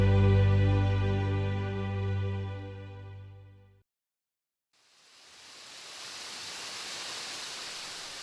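Buril Falls at Jirisan near Ssanggyesa temple, its rushing water rising as a broad, steady roar after a sustained tonal passage fades out and a brief silence, filling the second half at a constant, fairly loud level.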